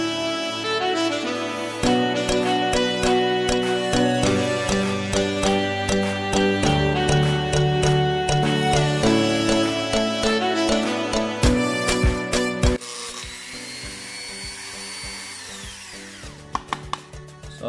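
A rotary tool trims PVC pipe for a DIY bottle cage, producing a close, high-pitched whine with rhythmic grinding pulses, then softer scraping and a few sharp taps near the end.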